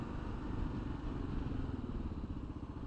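Continuous motor noise from a 2024 Kawasaki KLR 650 motorcycle as it shifts down, a steady engine drone with rushing wind or road roar throughout and no clear gear-change break, loud and close.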